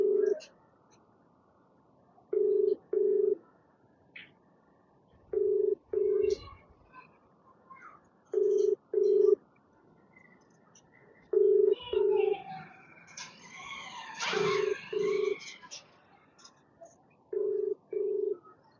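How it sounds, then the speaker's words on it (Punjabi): A telephone call rings out on the line with a steady ringback tone, low paired beeps repeating about every three seconds, fairly clear, with faint background noise and a brief burst of other sound midway. "ਬੈਲ ਜਾ ਰਹੀ ਹੈ"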